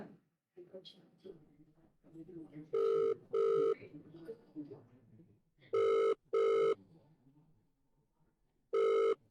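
A telephone rings in repeated double bursts, loud and electronic, between stretches of quiet speech from a person nearby.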